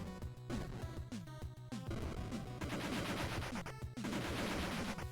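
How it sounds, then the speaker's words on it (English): Gunfire and explosions from the video game Metal Hunter, a grenade among them, crackle in dense rapid bursts with sharp repeated shots, loud and continuous for several seconds, with no talk. "Alright, I have a grenade. Time to use it."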